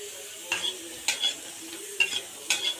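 Lentil fritters fry in a pan of oil with a steady low sizzle, broken by four evenly spaced stirring scrapes, close and fairly quiet.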